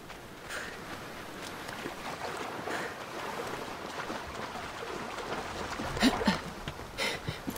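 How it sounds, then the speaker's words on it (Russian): Sea waves wash against the shore in Assassin's Creed Odyssey, a continuous hissing surf with rolling swells that grow louder toward the end, heard alone. "Тут волны."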